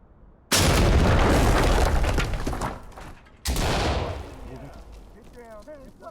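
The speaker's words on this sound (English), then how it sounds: "Deploy C2, then flashbangs." Two heavy blasts in the Ready or Not video game, a C2 breaching charge and flashbangs going off: a loud close boom with a long roaring decay, then a second sharp bang that fades out, with faint voices.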